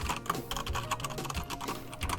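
Fast, steady typing on a Logitech G710+ mechanical gaming keyboard gives a dense run of close, crisp key clicks, without any talking.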